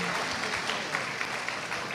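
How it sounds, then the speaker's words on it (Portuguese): A church congregation gives a round of applause for a teacher, a steady wash of many hands clapping at moderate volume, unbroken throughout. "uma salva de palmas"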